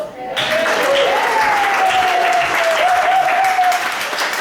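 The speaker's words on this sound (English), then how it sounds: "Round of applause!" Audience applause at a live hypnotherapy and NLP stage event, loud dense clapping that swells in abruptly and holds steady, with a faint voice or tone running underneath.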